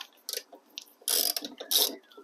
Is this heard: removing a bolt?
yes